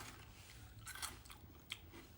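A crunchy, crispy grape bitten and chewed, with a couple of short crisp crunches over quiet, close background.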